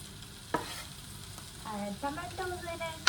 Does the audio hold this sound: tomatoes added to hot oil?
yes